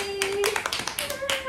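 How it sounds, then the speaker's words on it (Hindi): Several quick hand claps ring out in a short burst, close and sharp, with a voice and a whistling tone in the background during a spicy noodle challenge. "ताली।"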